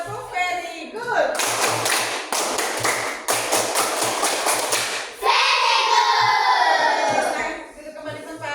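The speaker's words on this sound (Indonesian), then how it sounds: "Kita kasih tepuk tangan dulu untuk kelompok kinestetik." A classroom group claps in rhythmic, patterned bursts with a thumping beat, followed by a louder burst of cheering and shouting voices.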